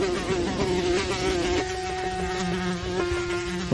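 A large fly buzzes in a steady, close drone with a clear pitched hum that holds throughout, alone with no other sounds.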